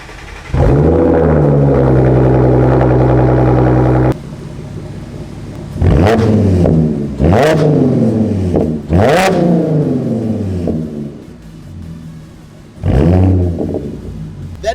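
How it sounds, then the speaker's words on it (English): Supercharged Audi S4 engine cold-starting into a loud, steady high idle that drops off, followed by several sharp throttle blips that rise and fall quickly, heard up close. "First off, though, we're gonna need a cold start."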